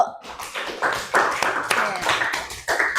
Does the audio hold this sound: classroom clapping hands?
yes